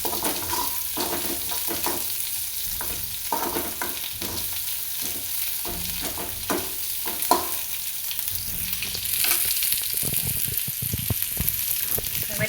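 Onions sauté in a pan for a drumstick stir-fry, a steady close sizzle broken by repeated scraping stirs of a spoon, continuous and moderately loud without talk.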